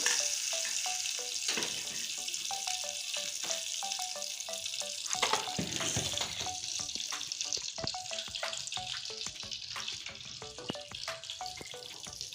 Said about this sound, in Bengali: আর এখানে আছে ঘি ঘি দিয়ে দিচ্ছি এক চামচের মতো